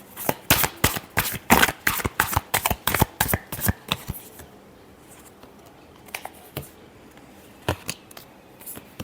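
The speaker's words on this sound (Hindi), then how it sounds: "Last shuffle." Tarot cards being shuffled in a rapid series of crisp riffles and slaps for about four seconds, then a few sparse taps and card flicks, close and fairly quiet.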